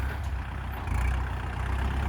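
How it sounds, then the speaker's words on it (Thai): A Kubota tractor engine runs steadily while being driven through a farm field, giving a continuous low rumbling drone that stays at a constant level. "ป๋าพลขับแท็กเตอร์ครับ"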